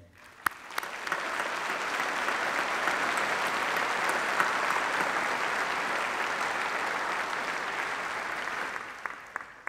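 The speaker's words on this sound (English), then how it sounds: "ask once again that you join me in applauding them" A graduation ceremony audience applauds the university staff, a dense, sustained wash of clapping from a large crowd that swells quickly, holds steady for about nine seconds and then thins out.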